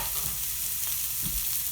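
Garlic and green onions sauté in butter with a steady, soft hiss close by, broken by a few faint stirring scrapes and light pops.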